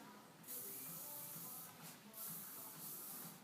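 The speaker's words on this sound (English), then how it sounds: "Then you can always just give it a quick spray." Hairspray from an aerosol can hisses in a salon during hair styling, two quick bursts of airy spray close up, with no voices over it.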